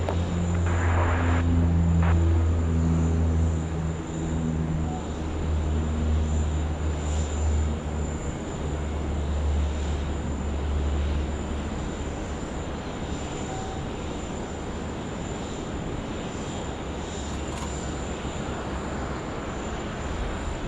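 An airliner landing on runway 34 left at Sydney Airport, a deep, steady engine roar with low droning tones that stays loud and then eases into a broad rumble, with no talk over it.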